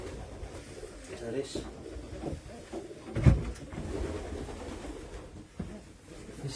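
Racing pigeons coo softly inside a shed holding young hens, low murmuring calls scattered through the clip with a brief louder burst midway, under faint background noise.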